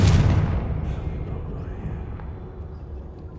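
A fire-spell explosion in Hogwarts Legacy lands as a heavy, booming blast at the start, then fades into a long rumbling, crackling decay.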